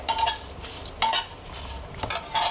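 Spices sautéing in a pan, with a utensil stirring and scraping against the metal in a few distinct clinks and scrapes over a faint steady sizzle, quiet and close, no talk.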